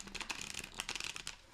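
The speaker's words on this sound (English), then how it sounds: "Give me 2 more shuffles." Tarot cards are shuffled up close in a quiet room, with a soft, rapid run of papery riffles and flicks and no talking.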